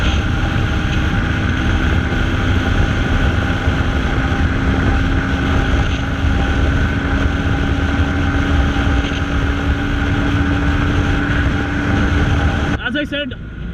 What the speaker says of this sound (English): we are in a uphill now, and as you can see here, the bike is still pulling